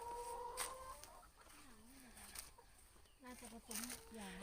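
Hens cluck and murmur softly at a distance in a school chicken coop, with a faint rooster-like call, beneath steady background hum and some quiet talking.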